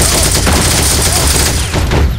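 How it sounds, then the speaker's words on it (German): An MG42 machine gun fires in the Heroes & Generals game, a loud, sustained stream of rapid shots that blur into a dense roar over the whole stretch, with faint talk underneath. "Hat das Maschinengewehr 42 eine Menge Rückstoß?"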